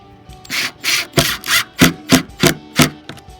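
Screw being driven into a wooden shutter, giving a series of about eight rhythmic, close-up creaking, rubbing turns with short pauses between them, heard alone with no talk.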